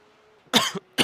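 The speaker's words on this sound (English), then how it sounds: "Can't stop fucking coughing today." Two harsh, close coughs break a quiet background with a faint steady tone, the first a rough double burst and the second a single sharp hack, from a sim racer during an endurance iRacing event at the Nordschleife.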